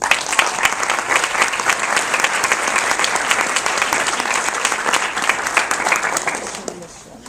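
An audience applauds steadily at a nurses' pinning ceremony for a graduating class, dense continuous clapping that fades out near the end.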